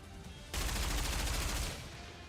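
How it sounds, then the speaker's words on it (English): A sustained barrage of bullets from a raptor in NIKKE, a dense, loud roar of rapid gunfire lasting about a second after a quieter start, then easing off. "The raptor fires a barrage of bullets."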